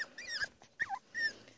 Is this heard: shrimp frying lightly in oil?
no